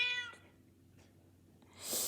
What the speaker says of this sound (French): Vous avez dû entendre miauler.